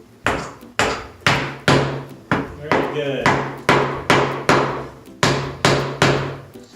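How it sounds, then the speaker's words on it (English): Hammer blows drive nails into a wooden bird feeder, about a dozen sharp, loud strikes in a steady rhythm roughly twice per second, with a short spoken remark partway through. "I'm a pro at hammering"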